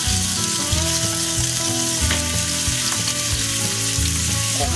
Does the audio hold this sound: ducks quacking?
no